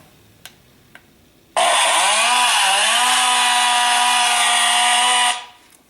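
After a couple of faint clicks, a loud recorded chainsaw sound from a Halloween prop roars to life, revs with a brief dip in pitch, holds a steady buzzing whine, then cuts off.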